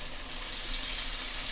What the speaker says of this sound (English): I'm gonna be adding some more of the water